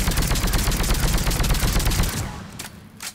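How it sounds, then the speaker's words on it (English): A sniper rifle in Mass Effect 3 Legendary Edition fires a loud, rapid stream of shots for about two seconds, followed by a couple of isolated sharper reports as the burst tails off. "This is a pretty badass sniper."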